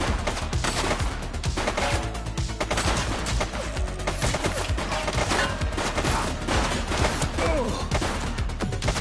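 Gunshots in a police shootout, a loud sustained volley of rapid fire with crashing impacts that runs continuously without letup, no voices over it.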